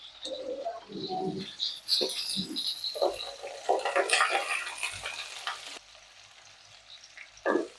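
Onions, garlic and ginger sauté in a pan for a chutney, with a steady sizzle and scraping stirs, while birds coo and chirp nearby in the background.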